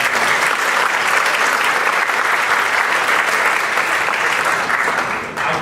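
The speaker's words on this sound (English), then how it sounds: "Round of applause for Sabrina" An audience at a pension reform forum breaks into loud, dense applause that holds steady for several seconds before tapering off quickly at the very end.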